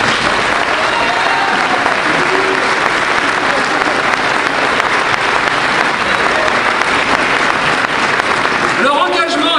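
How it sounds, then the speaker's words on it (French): Loud, sustained applause from a large audience at a mayor's New Year's address, applauding the elected officials. The dense clapping holds evenly throughout, with some louder individual claps near the end. "je vous demande aussi d'applaudir vos élus qui le méritent"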